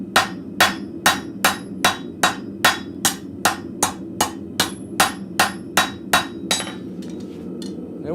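Blacksmith's hammer striking steel on an anvil while forging arrowheads, about sixteen loud, ringing metallic blows in a fast, even rhythm, then the striking stops and a softer scraping follows.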